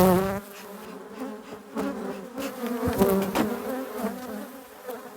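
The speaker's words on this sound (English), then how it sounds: "These are nice bees." Honey bees swarm noisily around an opened hive on a French bee farm where a queen is being released, a dense, steady, close buzzing drone that carries throughout.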